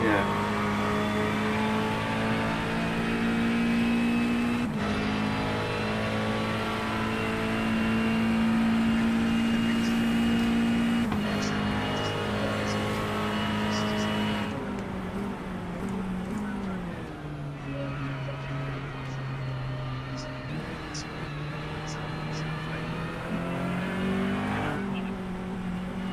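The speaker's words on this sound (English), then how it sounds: "fast car approaching" At Spa in a racing video game, race car engines drone loudly, with gear shifts breaking the pitch as it climbs and drops. A faster car comes up from behind while people talk over the engine noise.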